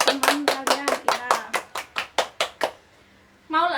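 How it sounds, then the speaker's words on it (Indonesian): Classroom applause for a student: about a dozen sharp, evenly spaced claps ring out loud and close, then stop, and a voice starts speaking right after. "Tepuk tangan untuk teman kalian, Ira."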